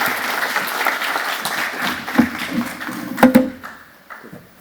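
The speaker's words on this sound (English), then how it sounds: "Give them a round of applause." An audience at a kidney patient event applauds speakers with a steady round of clapping that thins out, a few louder claps and a brief voice or cough standing out near the end.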